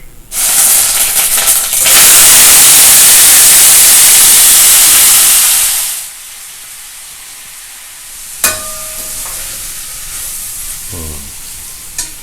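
Drained potatoes tipped into a pan of hot oil with mustard seeds, bursting into a loud, sustained hissing sizzle for about four seconds before it settles to a softer steady frying crackle, with a few close clinks from a utensil.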